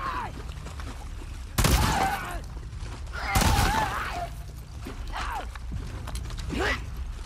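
Two heavy shotgun blasts from The Last of Us Part II gameplay, about two seconds apart. Each is loud and sharp with a brief ringing tail, over a steady in-game background hum and mechanical clicks.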